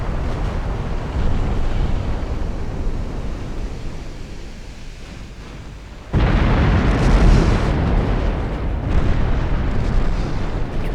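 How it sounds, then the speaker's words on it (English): Torpedo explosions on the battleship Mikasa in a naval video game, a loud rumbling roar like surf and wind, with a sudden heavier blast midway that then rolls on. "Torpedoes on Mikasa blew up."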